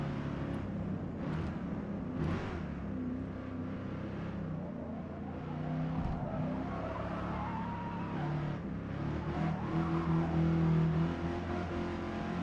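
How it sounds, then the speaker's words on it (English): A V10 race car in a racing video game slides through a corner, its engine holding a steady, buzzing drone with rising revs and tyre scrub, loud and continuous with no talking. "See the way that I'm sliding the car?"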